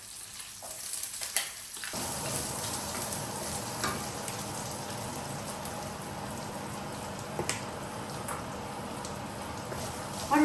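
Chopped garlic, green chili, onion and ginger frying in a pan. After a brief quiet start, a continuous crackling sizzle sets in and holds steady and close, with no voices.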